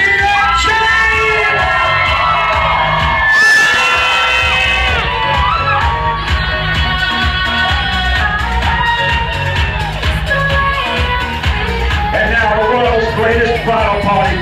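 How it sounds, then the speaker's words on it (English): Wedding guests at a reception scream, whoop and cheer loudly and continuously for the bridal party's entrance, a dense crowd roar with shouts rising above it and music or voices mixed underneath. "scream and shout for Joseph E."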